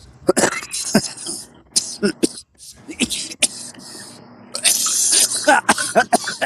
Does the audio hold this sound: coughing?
yes